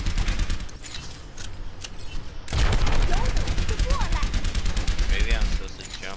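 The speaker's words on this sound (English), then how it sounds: "I'm gonna try to hit her with missiles." Rapid missile or gunfire bursts in a shooter video game, dense crackling volleys that swell louder midway and keep firing steadily, with game effects layered throughout.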